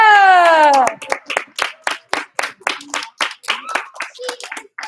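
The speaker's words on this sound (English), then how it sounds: "Give one clap. Two clap. Two clap." At a graduation and awards ceremony, a brief voice opens before an audience claps in a steady, rhythmic beat, with many sharp, close claps.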